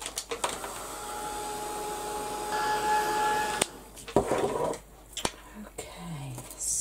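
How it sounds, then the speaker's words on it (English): A heat gun blows steadily and loudly on craft pieces for a spring-themed box lid, a continuous airy whoosh for about three and a half seconds before cutting off, followed by a few quiet clicks and handling sounds. "I'll give these a quick blast with the heat gun"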